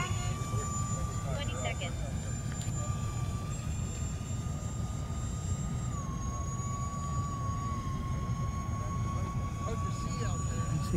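An E-flite SR-71 Blackbird twin 40mm EDF RC jet comes in to land at an outdoor flying field, its steady ducted-fan whine holding a high tone that dips slightly midway, over constant wind noise throughout.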